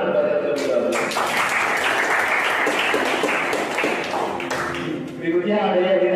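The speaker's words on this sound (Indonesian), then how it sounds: "Kasih tepuk tangan kepada yang sudah menjawab" Students in a classroom applaud after a correct answer, a short round of clapping mixed with voices talking over it.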